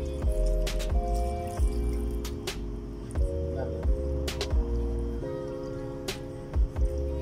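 Water splashes and trickles steadily into a cooking pot for goat head curry, with scattered drips and clinks of utensils against a constant background hum.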